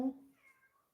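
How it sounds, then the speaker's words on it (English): A single short cat meow, fairly close and soft, trailing off within a second in a quiet room. "Kitty's been meowing at me a lot."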